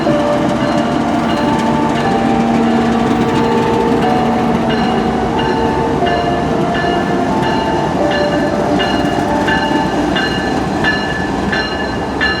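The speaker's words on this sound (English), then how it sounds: "Norfolk Southern 282 finally started departing for North Carolina" A Norfolk Southern freight train rolls past close by, its loud continuous rumble carrying steady rhythmic clatter of wheels over rail joints and faint squealing tones throughout.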